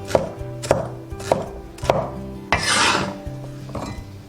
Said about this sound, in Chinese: 青红椒切块